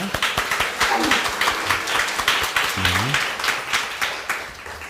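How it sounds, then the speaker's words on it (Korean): A church congregation claps in welcome during a Sunday service, moderately loud and sustained, with a few murmuring voices underneath. "우리 환영의 박수 하겠습니다"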